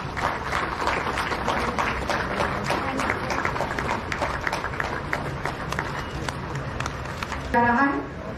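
A crowd claps steadily through an officer appointment ceremony in Ranchi, the sharp, scattered hand claps continuing beneath an announcer's voice and swelling briefly near the end.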